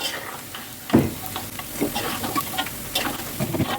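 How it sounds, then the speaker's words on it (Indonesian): An egg frying in a pan, a continuous sizzle with occasional sharp clicks and scraping stirs, close and fairly loud, no talk. "Sekarang saatnya goreng telur."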